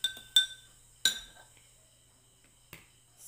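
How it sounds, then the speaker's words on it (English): A spoon stirring salt into a glass of water, giving a few sharp, bright clinks against the glass spaced out over a few seconds, close and fairly quiet with near silence between the strikes. "So let's stir it until the salt will disappear."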